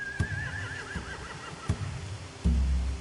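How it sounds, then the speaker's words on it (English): Horses neigh in a Walking Dead video game scene aboard a large boat, a long wavering whinny followed by short snorts and a heavy thump, close and loud with no talking. "They have horses."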